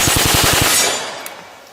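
A .45 caliber Tommy gun fires a rapid burst of about eight loud, close shots, then the report rings and fades out.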